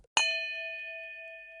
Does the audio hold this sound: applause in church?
no